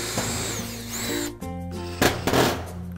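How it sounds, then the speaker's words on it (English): A power drill whines up in short bursts, its motor pitch rising and falling as screws are driven into a metal garden shed gable, close and fairly loud. "So you'll just drill these out."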